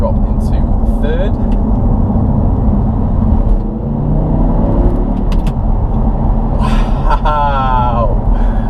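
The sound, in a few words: 2012 Audi R8 V10 manual car engine accelerating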